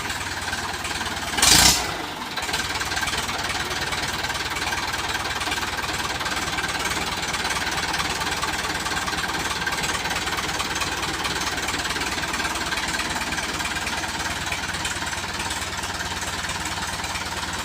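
A Ford 6610 single-axle tractor sits idling, its diesel engine keeping up a steady, even rumble close by after a brief loud knock near the start.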